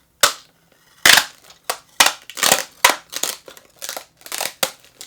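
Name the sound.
tape dispenser taping up a cardboard box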